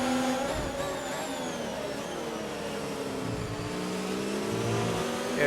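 A racing car engine in a sim racing game on a wet track drones and revs continuously, the pitch rising and falling through gear changes at moderate loudness, with no voices.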